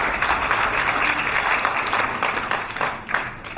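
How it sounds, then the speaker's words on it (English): A crowd at a business roundtable event in London applauds steadily, many hands clapping at once in a dense wash of sound that gradually softens toward the end. "Please give him a big round of applause."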